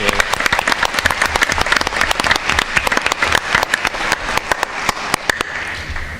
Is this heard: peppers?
no